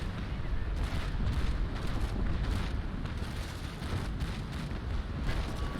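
Sustained low rumbling booms from a sailing warship's cannon broadside in the naval game Naval Action, rolling continuously at steady loudness with faint voices underneath.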